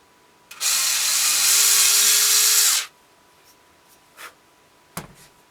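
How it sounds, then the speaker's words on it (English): A high-pitched Dremel rotary tool whines loudly for about two seconds as it drills a hole through a half-inch-thick block of wood, then stops, followed by a few faint clicks and a soft knock. "Drill our hole through here."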